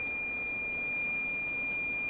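A Fluke 115 multimeter in diode mode with its leads shorted together gives a continuous, steady high-pitched tone, loud and close, lasting the whole moment without a break.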